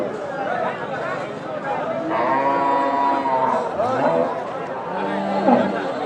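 A local bull lows several times at a busy Bangladeshi cattle market before Eid, with long drawn-out moos close by over background chatter and voices.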